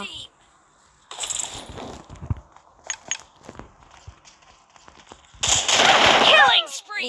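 Gunfire in the mobile game PUBG Mobile: scattered sharp shots early, then a loud, dense burst of rapid fire near the end, set against quieter in-game rustling and footsteps.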